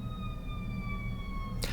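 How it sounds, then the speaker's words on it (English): Sirens wail in a horror game about a creature called the Leech Man, a steady pitched tone drifting slowly downward under a constant low rumble, ending in a brief noisy burst. "And then sirens."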